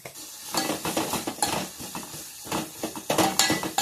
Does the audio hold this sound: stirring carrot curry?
yes